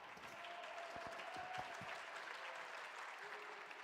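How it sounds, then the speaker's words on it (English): Applause from an arena crowd at a PUBG Mobile World Invitational esports event, a steady wash of clapping held at moderate distance with a few sharper claps standing out. "The crowd happy with their performance there"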